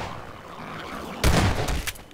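Gunfire in the video game Half-Life 2: after a quiet stretch, a sudden loud burst of shots and echoing impacts erupts, followed by a couple of further sharp reports.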